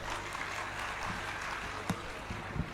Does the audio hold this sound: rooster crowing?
no